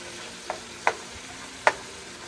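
Taco meat cooks in a pan while being stirred: three sharp scraping clicks of a utensil against the pan, the last loudest, over a faint low sizzle with no voices.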